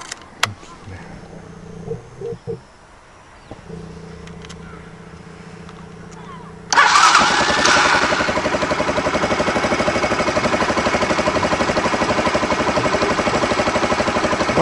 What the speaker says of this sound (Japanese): エンジンかけてみましょうか。